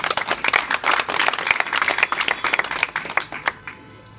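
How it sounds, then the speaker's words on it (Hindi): An audience at a public gathering claps to welcome dignitaries seated on stage, a lively scattered round of hand claps that thins out and stops near the end. "इनका जोरदार ताली बजाकर स्वागत करें।"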